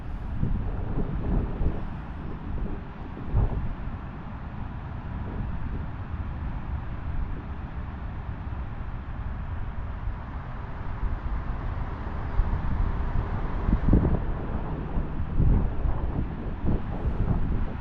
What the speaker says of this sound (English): it's a bit too windy